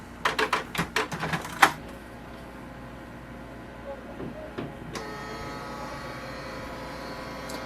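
A Canon Pixma MG3640 printer scanning a document: a burst of sharp mechanical clicks and clunks at first, then a quiet, steady motor hum as the scan head travels, with a brief clack partway through.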